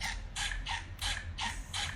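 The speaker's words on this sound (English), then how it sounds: "SpongeBob's squeaky shoes." Cartoon squeaky shoes from SpongeBob squeak in a steady run of about six evenly spaced, bright squeaks, loud and close over a low background hum.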